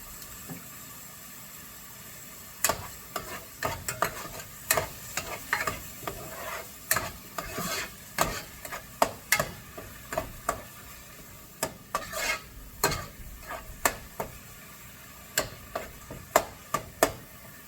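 Tomato puree cooking in a pan for Punjabi chole: a soft sizzle runs underneath while a spoon scrapes and knocks repeatedly in an uneven stirring rhythm, close by.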